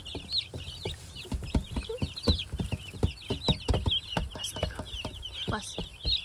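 Baby chicks in a homestead brooder, a dense stream of high, rapid peeping close by, with soft voices murmuring underneath.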